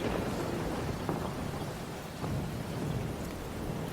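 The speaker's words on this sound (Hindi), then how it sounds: "बाहर इतनी जोरों से बारिश हो रही है" Heavy rain pours steadily in a dense, constant roar, with a low rumble underneath and no voices.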